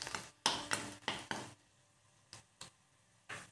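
Black masala and turmeric are stirred and fried in a pan: a quick run of scraping spoon strokes with light sizzling, then a pause and a few sparser stirs, close and fairly quiet.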